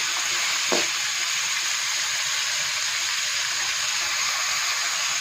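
Carrot pieces stir-fried in a pan for pickle give a steady, even sizzle that runs the whole time, with one brief scrape of the spoon near the start.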